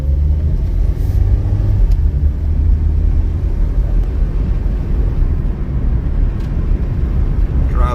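A 2002 Honda Civic LX with a rebuilt automatic transmission drives along with a steady, loud low engine and road rumble that stays even throughout, with no talking.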